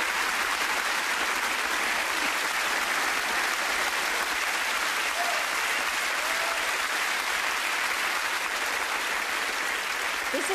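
A large audience at a televised awards ceremony applauds steadily and loudly throughout, a dense, even wash of clapping with no voices on top.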